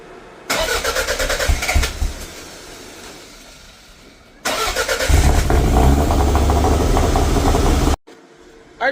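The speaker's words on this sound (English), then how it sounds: "I don't want to wake up the neighborhood with George's car or trying to do things" A Toyota MR2 fitted with a Link G4X standalone ECU cranks and starts twice, the first bursts of cranking cutting off, then a second start catching into a loud, steady idle that abruptly stops.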